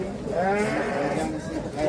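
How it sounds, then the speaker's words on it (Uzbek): Young sheep bleat in wavering, nasal cries at a livestock market, several overlapping calls close by, with a continuous animal chorus filling the whole stretch. "Chiroyli yosh qo'ylar ekan akalar mana"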